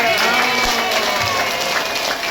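Brief, dense applause from a small indoor group for a woman sharing her recovery story, a steady wash of clapping lasting a couple of seconds with a faint hum beneath.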